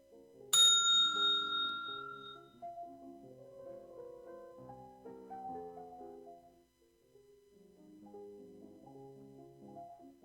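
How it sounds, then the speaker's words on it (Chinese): A bright bell rings once, sharp and loud, ringing out over a couple of seconds above steady background music, marking the start of a timed food-inspection practical exam. "好，准备了一个铃声。"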